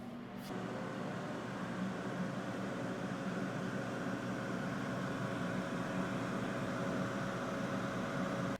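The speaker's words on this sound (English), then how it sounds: "now let's put them back in the air fryer and let it finish cooking" Ninja Crispi Pro air fryer cooking sweet potatoes, giving a steady, even fan whir and hum that starts after a brief click and holds at constant loudness throughout, with no talking.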